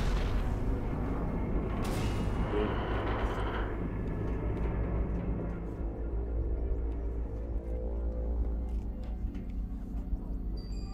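Explosions in the Xbox 360 game Halo Reach, a heavy deep boom with crackling debris that decays into a long low rumble, followed by scattered faint clicks and pops.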